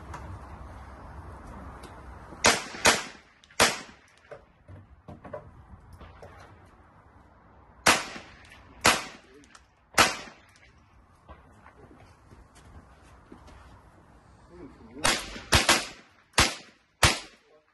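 Gunshots fired by a shooter at a shooting range: sharp, loud cracks in quick clusters, two or three at a time, with pauses between groups over a quiet background.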